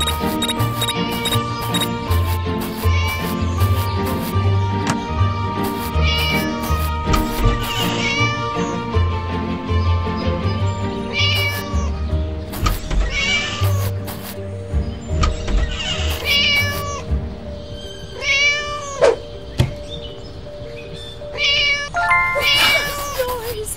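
In the video game Scary Teacher, a cat meows repeatedly in high, drawn-out cries over busy game music and effects, with squeaky bursts and brief clicks throughout.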